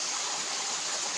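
Water from the falls at Ubo Falls in Barangay Mayngaran, Masbate, flows as a continuous bright hiss and rush, loud and close, alone without voices for a brief moment.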